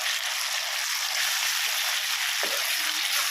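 Onions tipped into a pan of spices hiss and crackle in a steady, close sizzle that holds for a few seconds, with a faint scrape of stirring near the end and no talking.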